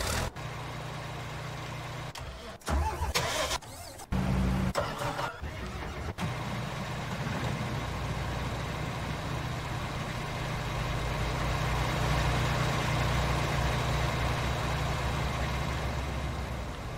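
A truck engine in Farming Simulator 19 starts up with a few uneven bursts, then settles into a steady, loud, low idle that holds unbroken to the end.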